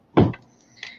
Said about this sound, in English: I gotta dig a roll of tape out of the drawer.